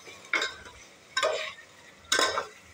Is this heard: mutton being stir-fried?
yes